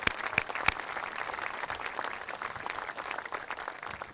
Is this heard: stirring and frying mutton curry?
no